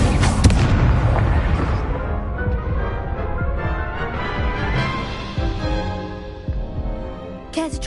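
Fire spell explosions in Hogwarts Legacy, a loud burst of booms and crackling blasts at the start that fades into a rumbling, ringing tail, with another sharp hit near the end.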